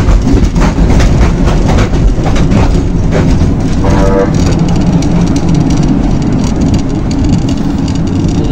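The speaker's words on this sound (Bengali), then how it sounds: "খুবই মজাদার একটি ট্রেন ভ্রমণ করলাম।" Loud continuous rumble from inside a moving train, with rhythmic clatter of wheels on the tracks and a brief squeal midway.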